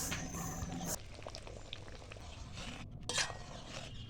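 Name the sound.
stirring boiled lentil dal with fried eggs in a pot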